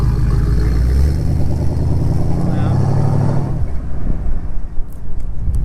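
A 1978 Chevrolet Corvette C3 Stingray at a US car club meet idles with a loud, deep V8 rumble, then pulls away and fades, while someone talks over it.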